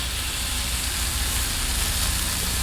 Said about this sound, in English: So bacon's going on.